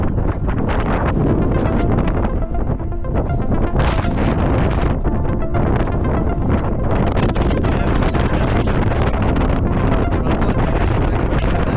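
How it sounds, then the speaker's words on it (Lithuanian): Strong wind roars across the summit of Greece's highest mountain, battering the microphone with loud, continuous buffeting gusts that never let up, with no voices. "tiesiog pats vėjas dar neužkūrus droną plešia iš ranko"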